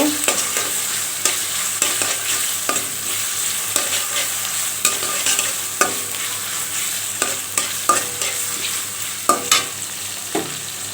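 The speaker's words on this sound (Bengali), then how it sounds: "চিংড়ি মাছ দিয়ে একটু ভেজে নেব" Prawns frying in a pan with ginger paste while being stirred, a steady sizzle broken by regular scraping stirs at an even rhythm, close and clear with no voices.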